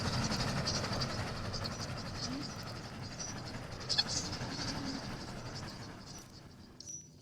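A train passes near a village, a steady rolling rumble with faint clickety-clack, heard from fairly close and slowly fading, with occasional sharp clicks and bird calls over it.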